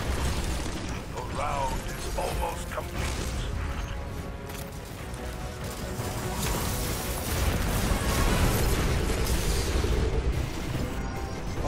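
Flashbang grenades detonate during a Destiny 2 dungeon fight, producing a dense, continuous barrage of loud bursts and mechanical clatter that builds toward the end.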